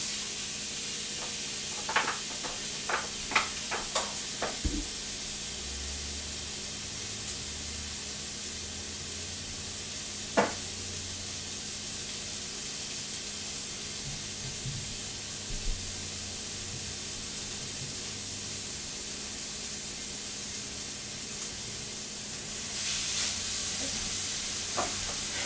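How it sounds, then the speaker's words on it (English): Bacon sour cream burgers frying in a pan, a steady close hiss and sizzle with a few scattered pops and light scraping, continuous throughout. "I'm gonna fry these burgers on up."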